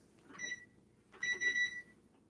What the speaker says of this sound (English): I'm going to set the timer for right now for 35 minutes